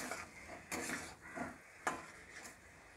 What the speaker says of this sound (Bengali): এবার আলুর সঙ্গে মশলাটা আমি কিছুক্ষণ কষিয়ে নেব।